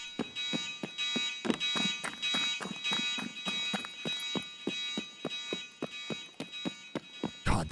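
A loud electronic alarm in the video game Escape from Tarkov beeps rapidly and relentlessly in an even rhythm, harsh and close, with no voices over it.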